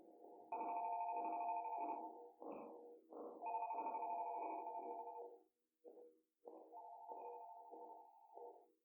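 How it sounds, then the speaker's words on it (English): A telephone rings in Five Nights at Freddy's Rewritten 87: a faint electronic ring pulses in repeated bursts, broken by short gaps, with no voices. "I feel so sorry for whoever's trying to phone me"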